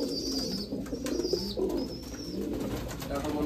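A flock of Teddy pigeons coos continuously in overlapping low, rolling calls nearby, joined by a few thin high chirps, with no voices in the short stretch.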